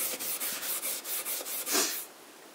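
Steel wool, grade 000, rubs over a painted antique cabinet in quick, repeated back-and-forth strokes, a close, steady scratchy scrubbing with brief pauses between passes and no talking.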